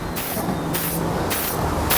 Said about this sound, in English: I take this canola oil and I like to just spray down the grates.